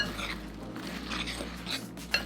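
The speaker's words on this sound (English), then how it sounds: "just give it a quick mix" Shredded coconut, cinnamon and other dry snack ingredients are quickly stirred in a bowl, with light clinks and scrapes of a utensil against the dish over a couple of seconds.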